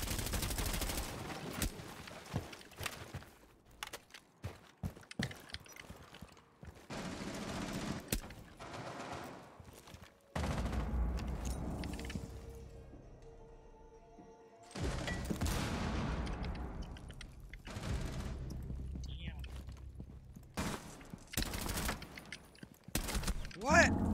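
Gunfire bursts in the tactical shooter Rainbow Six Siege, with repeated sharp shots and short volleys scattered through the round and several silent gaps, while players talk over the action.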